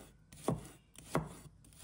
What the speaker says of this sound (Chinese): 再准备红葱头，把它切成片